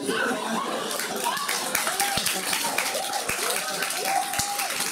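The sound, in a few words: audience clapping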